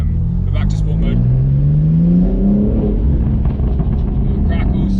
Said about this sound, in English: Get a nice rasp through there.